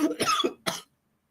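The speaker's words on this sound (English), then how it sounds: "I'm sorry. I'm coughing" Two short, harsh coughs close by, the first a double burst, followed by quiet.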